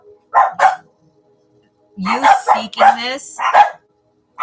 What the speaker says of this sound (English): the mailman's here, so my dogs are going to bark